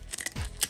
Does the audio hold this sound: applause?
no